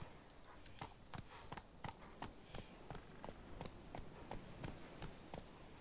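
Roach the horse gallops in The Witcher 3, hooves striking in a quick, regular clip-clop rhythm, faint and steady across the whole stretch.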